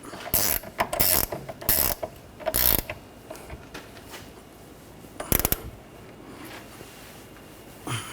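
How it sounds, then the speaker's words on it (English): A 15mm ratchet wrench clicks in several quick bursts of close, loud ratcheting while tightening a rear sway bar link nut on a 2013-2019 Ford Escape, with short pauses between strokes and a final pair of clicks. "I'm going to use a 15mm ratchet wrench and a 5mm hex socket to keep the stud from spinning. Tighten this up."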